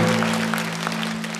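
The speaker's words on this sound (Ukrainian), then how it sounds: "Зал аплодує." A comedy show audience applauds briefly, the claps steady and fairly loud over a low steady hum.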